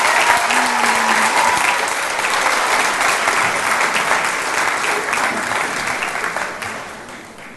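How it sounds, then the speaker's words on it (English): Graduation commencement audience at a hospitality school applauding after a student speech, a loud sustained roar of many clapping hands that gradually tapers off toward the end. "I would like to give her a round of applause again"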